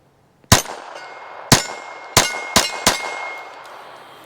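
SIG P322 .22lr pistol fired five times with CCI Quiet semi-auto rounds, sharp metallic cracks at uneven intervals, each leaving a short ringing tail outdoors.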